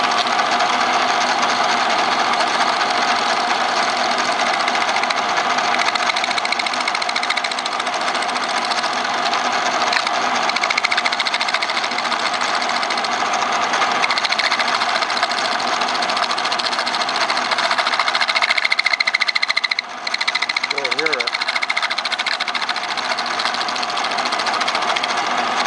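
A trimming tool chatters against a pottery vase spinning on a wheel, giving a loud, continuous buzzing rattle over the motor's hum that stays steady throughout, with a brief dip near the end.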